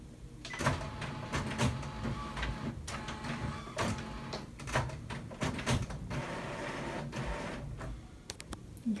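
An Epson printer powering off gives a faint whirring and clicking as its mechanism shuts down, steady and low in a quiet room.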